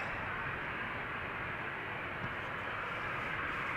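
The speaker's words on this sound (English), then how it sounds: "we have the 737 outbound to Helsinki coming this way" A four-year-old Boeing 737-800 airliner departs Amsterdam Schiphol on runway 36L bound for Helsinki, a steady broad distant jet roar holding an even level throughout.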